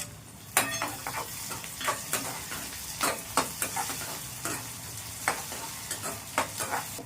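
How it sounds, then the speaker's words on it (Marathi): Onion, curry leaves and garlic sauté in a pan under a steady sizzle, with a dozen or so sharp spatula stirs and scrapes spaced irregularly and close. "कांदा गुलाबी रंगावर होईपर्यंत परतून घ्यावा।"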